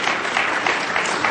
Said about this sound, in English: All 800 people gave a standing ovation to that, didn't they, Dunn?